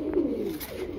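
A teddy breeder pigeon held in the hand coos softly and close, a low steady throaty murmur with a brief lift, alone without talk.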